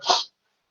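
A single short, sharp sneeze, close and fairly loud, bursting out and cutting off abruptly into silence.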